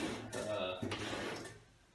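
A drawer in a technical workbench cabinet slides shut with a short woody knock, partly masked by someone talking nearby.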